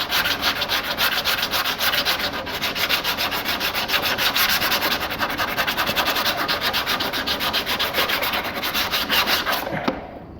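Abrasive sanding scrubs adhesive residue off a jet ski hull, a steady loud rasping friction that runs continuously without pause until a brief lull at the very end, with no talking.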